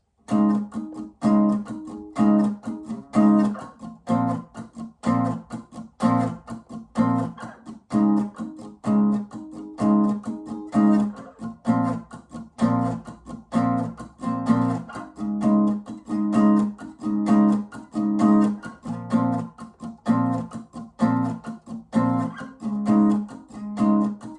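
Guitar chords strummed in a steady, repeating rhythmic pattern, clear and close, with short bursts of down strums and brief gaps between chord changes.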